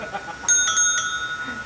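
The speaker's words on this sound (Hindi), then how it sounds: "इतनी बड़ी रॉयल एनफील्ड में एक छोटी सी साइकिल वाली घंटी है।" A small bicycle bell fitted on a Royal Enfield Classic 350 motorcycle rings in a few quick bright dings, close and clear, its metallic tone lingering briefly after the last strike.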